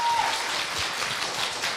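Audience applause at a Korea University middle school speaking contest, a short burst of even clapping from a crowded hall that stays steady and fairly loud from start to finish.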